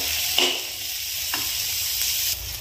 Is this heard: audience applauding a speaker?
no